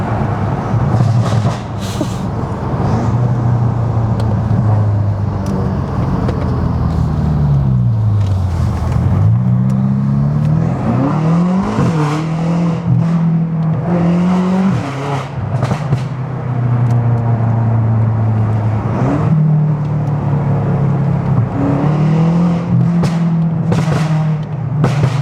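A stage 2 tuned pre-LCI BMW F90 M5 drives hard, its engine note loud and close as it rises and falls through repeated revving and gear changes.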